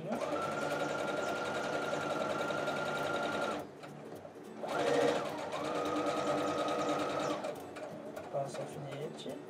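A sewing machine stitches along the edge of an overlapped dish towel, its motor whining steadily, stopping briefly, then running again, with a voice faintly in the background.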